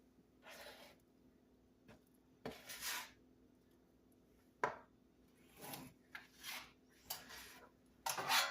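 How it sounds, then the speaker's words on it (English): Blueberries gently folded into cake batter in a kitchen bowl: soft, quiet scrapes and rubs of a utensil against the bowl, coming in short separate strokes with pauses between them. "Now we add our blueberries in with our batter and very gently stir them in."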